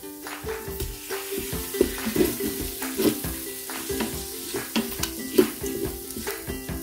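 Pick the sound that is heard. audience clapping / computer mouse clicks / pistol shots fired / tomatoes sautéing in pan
tomatoes sautéing in pan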